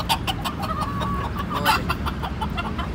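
Soft, repeated clucking from a brooding mother hen with chicks, close by, over a steady background hum.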